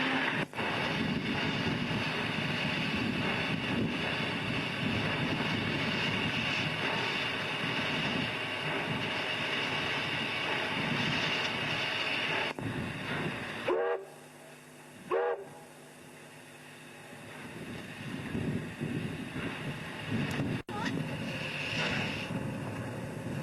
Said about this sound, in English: For the first time, one of our steam engines moves under its own steam in Glenroe Yard.